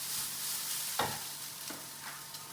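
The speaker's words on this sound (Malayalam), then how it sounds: "തേങ്ങ ഒന്ന് ചെറുതായിട്ടൊന്ന് വഴന്നതട്ടെ" Grated coconut sautés in a pan for tea snacks with a soft, steady sizzle, broken by a few light scraping stirs, quiet and close with no talking.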